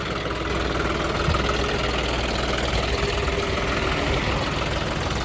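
A John Deere tractor engine idling, a steady loud low rumble with a faint mechanical knock, close by and unbroken, no talk.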